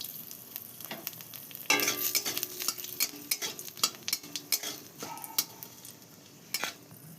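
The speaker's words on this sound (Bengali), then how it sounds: "কালো জিরে ফোড়ন দিয়ে দিচ্ছি তেজপাতা শুকনো লঙ্কা" Nigella seeds, a bay leaf and dried red chilli crackle and sizzle in hot oil, with a sharp burst of spitting when they hit the pan followed by steady frying and intermittent clinks of a stirring spoon, close and without talk.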